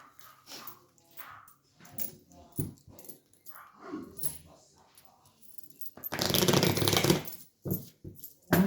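A dog whimpers and yips now and then during a tongits card game at home, with scattered clicks and a loud burst of card shuffling near the end.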